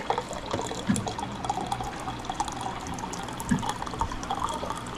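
Water poured into a cooking pot, a continuous splashing, trickling flow with a couple of soft knocks, close and moderately loud, no talking.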